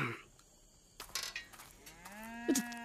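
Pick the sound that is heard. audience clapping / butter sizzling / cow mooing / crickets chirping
cow mooing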